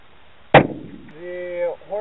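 A 260 Remington rifle fires a 130 grain bullet into saturated foam, a single sharp, close crack that decays quickly before a voice begins speaking.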